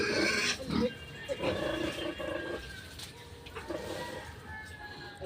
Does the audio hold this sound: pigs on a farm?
yes